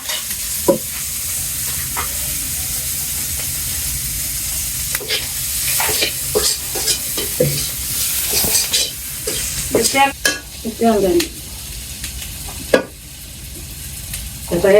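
Fish frying in oil in a pan, a steady loud sizzle that runs throughout, broken by repeated scraping and clinking of a stirring utensil against the pan.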